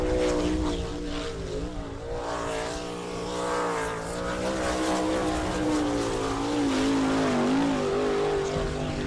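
A sprint car at speed on the half-mile dirt oval at Attica, Ohio, during a qualifying lap for the All Star Circuit of Champions, its engine snarl loud and continuous with shifting pitch through the turns across the whole stretch.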